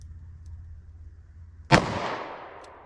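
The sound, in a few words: gunshot from a snubnose revolver into a gel block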